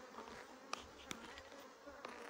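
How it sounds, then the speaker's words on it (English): Honey bees buzz around hives at an apiary in a soft, continuous drone, with a few sharper passes close by and no talking. "The bees are settling down good."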